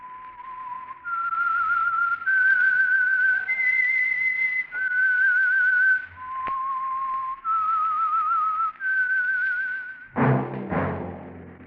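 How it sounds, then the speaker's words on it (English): A lone person whistles the theme tune of the radio program The Whistler, a clear, close melody of sustained notes stepping up and down in short phrases, followed by a brief low thump at the end. "That whistle is your signal for the Signal Oil program, The Whistler."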